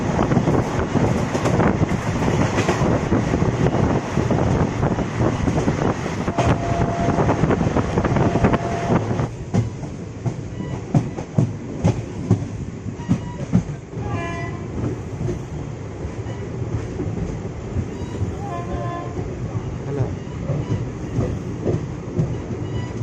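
Vananchal Express rolling on Indian Railways near Bokaro Steel City, a loud steady rumble of wheels and carriages with clattering rail joints and rattling metal throughout, a brief horn-like tone early on and no voices.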